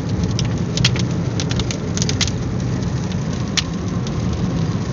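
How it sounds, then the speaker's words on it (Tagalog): Heavy rain pours steadily during a road trip from Albay to Camarines Sur, a dense continuous hiss with scattered sharper drops striking nearby surfaces. "Kusog kayong uwan."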